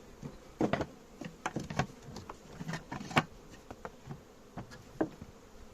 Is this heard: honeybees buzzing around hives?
yes